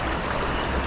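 River water streams and rushes steadily up close, a continuous broadband flow with no voices heard, on a hot day at a shallow rocky river.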